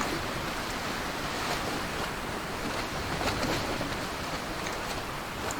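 Ocean waves and stormy wind surround a sailboat in the sailing video game Sailwind, forming a constant, moderately quiet rush of surf and wind noise with no talking.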